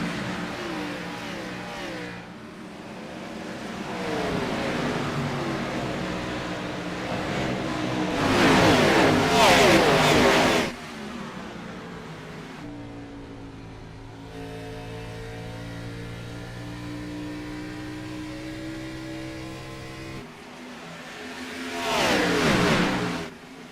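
Sim racing stock cars at Rockingham roar off the green flag start, engines droning and swelling as a pack passes, with loud revving peaks rising and fading, no talking.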